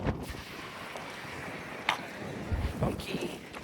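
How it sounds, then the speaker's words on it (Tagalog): Outdoor wind blows steadily with a soft broadband rush, and a few short gusty bumps rise and fall. There are faint scattered noises, but no clear speech over it. "Sana naririnig niyo yung hangin."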